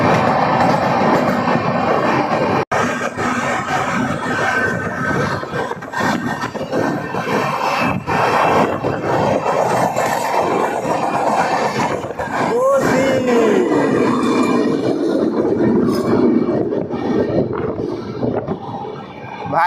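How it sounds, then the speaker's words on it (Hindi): Danapur Koderma Intercity Express rolls along the tracks in Bihar while the Kosi Express with new LHB coaches overtakes alongside, a loud continuous rumble of wheels and carriages with clanks, rattles and a brief squeal, a voice talking over it. "कोसी एक्सप्रेस इस ट्रेन को ओवरटेक करके भाग गई"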